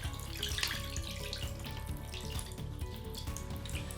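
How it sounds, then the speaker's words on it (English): Water spilling over the rim of a filled container as a displacement bag is pushed down into it, a steady close splashing and trickling flow that runs without pause and without talk. "That'll displace the water over the sides,"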